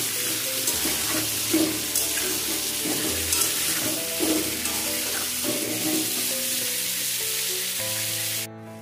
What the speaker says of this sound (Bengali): আলুগুলোকে সুন্দর করে ভেজে নেব